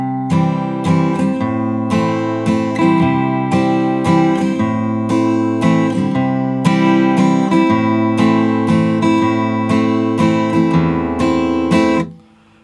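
Acoustic guitar in standard tuning playing the opening line of a song, a steady run of strummed and picked chords beginning on C, loud and close, ending in a brief fade, with no voice.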